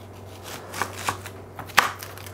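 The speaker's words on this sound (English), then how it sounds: "now we're going to cut the onion up because Lynn says I should do that" A knife chopping an onion in a home kitchen: three sharp cuts, each louder than the last, against a faint steady hum.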